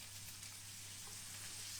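Tempeh and peanuts sizzling steadily in a pan as they are stirred, a continuous bright hiss with faint scraping and a low hum underneath, no voices.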